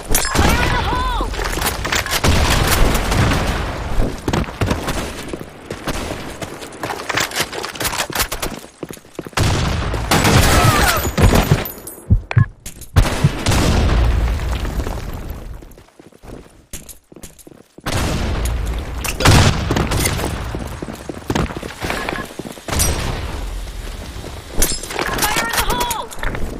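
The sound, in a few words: grenade explosions and gunfire in a video game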